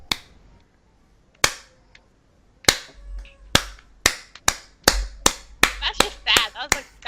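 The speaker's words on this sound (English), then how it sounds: "I feel like we should start a slow clap" A slow clap of single sharp hand claps, spaced far apart at first and quickening toward the end, loud and close with quiet gaps between.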